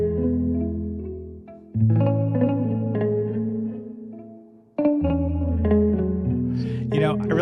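Thick, saturated rubber-bridge plucked string tone with a thumpy low end and smeared, washed-out sustain, playing a short phrase of chords and notes with effects.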